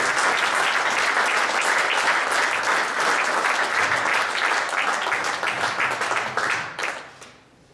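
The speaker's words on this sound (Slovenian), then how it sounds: "velik aplavz za naša šampiona še enkrat" An awards audience at a Kayaker of the Year ceremony applauds its kayaking champions with thick, sustained clapping that holds strong for several seconds and then fades out quickly near the end.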